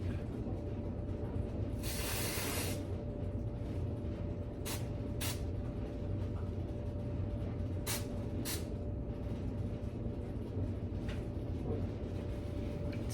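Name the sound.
hairspray being sprayed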